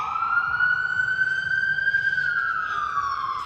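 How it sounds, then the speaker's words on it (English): A wailing emergency siren rises and falls in a steady sweep. It sounds loud and close, with nothing else over it. "Yes to the sirens."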